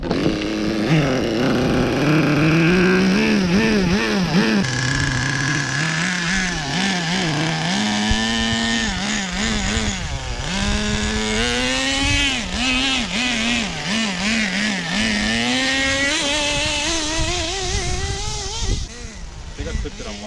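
A cheap HSP 1/8 scale nitro RC trophy truck engine screams and revs repeatedly up and down at close range, its high buzzing pitch rising and falling, with a voice at times underneath.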